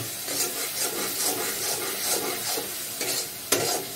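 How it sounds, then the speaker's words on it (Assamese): Spices fry in a pan: a soft sizzle under rhythmic scraping strokes of a stirring spoon, repeating about every half second and ending in one sharper knock. "মছলাখিনি বঢ়িয়াকৈ ভজা হৈ গ'ল"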